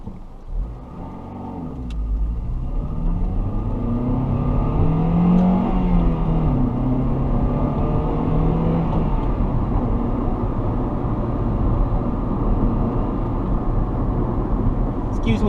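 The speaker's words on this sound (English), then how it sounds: "This is a 2002 Honda Civic Si. This is the EP3 model of the Si" A 2002 Honda Civic Si EP3 hatchback engine drones steadily from inside the cabin on a night drive, a low continuous rumble rising and shifting as it accelerates through the gears, with a driver talking over it.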